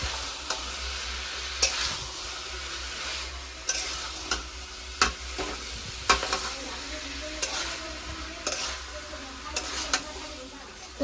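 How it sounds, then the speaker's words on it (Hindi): Potatoes and peas cooking for chaat sizzle steadily in a pan while a spoon stirs them, with repeated sharp scrapes and clacks against the metal at irregular intervals over a continuous frying hiss. "आलू मटर पकईदे तबरे मिक्स करवा।"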